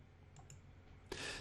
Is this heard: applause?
no